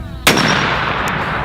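A single loud gunshot from a costly large-bore gun firing a 1,000-grain bullet: one sharp close blast followed by a short fading boom.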